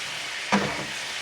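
Seasoned pork sizzles in a pan with a steady frying hiss throughout, broken by one short, close scrape of a utensil stirring the meat near the middle.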